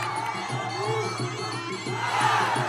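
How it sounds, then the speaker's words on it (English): A crowd roars and cheers at a kickboxing fight as a fighter lands knees, a sustained dense swell of voices that rises and falls, with no clear single speaker. "The crowd loving it."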